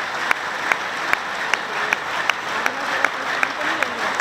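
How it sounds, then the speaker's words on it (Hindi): An audience at a yoga talk claps together in a steady, evenly spaced rhythm, crisp claps over a dense wash of applause. "आप अपनी तालियां खुद बजा लो"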